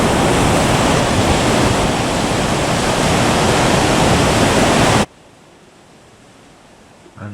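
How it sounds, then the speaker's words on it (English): Violent sea surf roars and crashes against a jetty, a loud, dense, continuous wash of pounding water up close that cuts off abruptly near the end, leaving faint low ambience. "An outraged sea is anything but quiet as it roars and pops and crashes and throws debris around like they were toothpicks"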